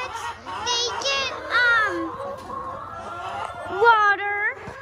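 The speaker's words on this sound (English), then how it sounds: "So this is my chickens." Farm chickens clucking and calling with honk-like squawks close by, rising in short bursts over a low background hum.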